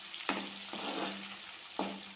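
Soyabean manchurian with coriander fries in a pan, giving a soft steady sizzle broken by three sharp spatula clinks against the metal.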